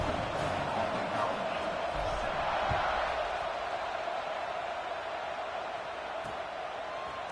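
A steady, dense roar from a stadium crowd in the NCAA College Football 26 video game, filling the background evenly at kickoff with no sharp peaks.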